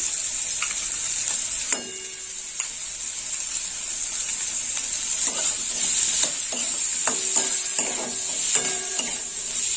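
Mustard paste frying with hog plums in a pan for a Bengali sour dish, a constant bright sizzle under intermittent clinks and scrapes of a spatula stirring, close and without voices.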